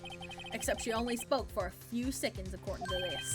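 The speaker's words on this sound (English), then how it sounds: "I heard a phone ring just now. One of those newfangled ringtones." A newfangled telephone ringtone from the video game The Great Ace Attorney rings faintly beneath steady conversation, its tones running through most of the exchange.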